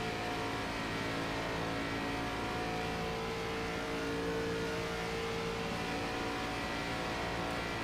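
Race cars on a dirt raceway during a Scrambler Series season opener, a dense, constant engine roar with droning tones from several cars at once, steady and loud throughout, no clear voices.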